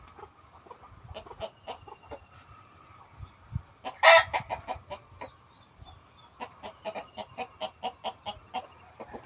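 Large native desi roosters and hens on a Bangladeshi farm make rhythmic, repeated clucking at close range, with one loud rooster crow bursting out midway and no talking.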